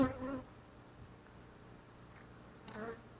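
Honey bees buzzing during a hive inspection, a soft, low, steady hum close by, with a louder swell of buzzing at the start and again near the end.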